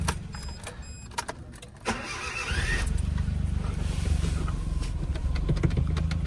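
A small Japanese kei car engine cranks with a brief whine, then catches and settles into a low, steady idle rumble close by.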